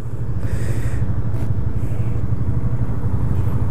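A new Yamaha Fazer 250 motorcycle running up close with a steady, throbbing low engine rumble that stays loud and even throughout, with light wind buffeting at intervals.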